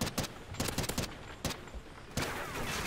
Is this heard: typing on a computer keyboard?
no